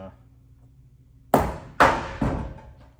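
A long socket used to push parts back on under a Dodge Ram during fuel tank installation, three sharp metallic knocks in quick succession, close and loud against a quiet background.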